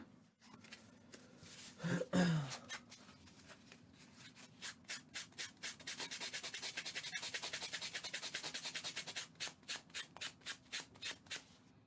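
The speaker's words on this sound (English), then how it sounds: "now let's just start sanding away" Steady back-and-forth sanding strokes, a quick brushing sound repeating in an even rhythm after a brief clunk near the start.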